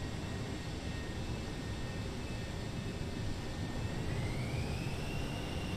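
F4 Phantom jet in a flight simulator game, a steady broadband engine roar with high whining tones that rise near the end as thrust builds for takeoff, continuous and fairly loud with no talking.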